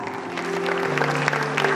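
Audience applause at a school prize distribution ceremony builds into a brief patter of clapping, moderately loud, mixed with a sustained tonal hum in the room.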